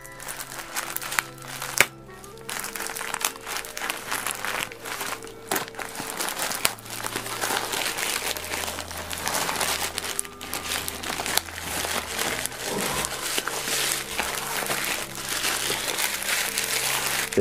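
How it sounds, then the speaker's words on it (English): Continuous crinkling and tearing of packaging as a well-packed parcel holding a Bruce Lee book is unwrapped, with loud close rustling and crackling filling the whole stretch. "Let's have an unwrap and see what he sent me."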